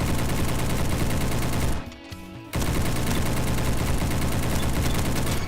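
Galil rifle fired from the hip in the Roblox game Bad Business, a loud, rapid automatic stream that breaks off briefly after about two seconds and then resumes for several seconds.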